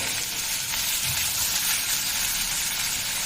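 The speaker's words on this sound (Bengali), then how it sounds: "তো প্রথমে পেঁয়াজগুলো দিয়ে দিলাম।" Half-ground onion paste, four to five tablespoons, hits hot oil for a katla fish bhuna and gives off a steady, close, bright sizzle with no voices.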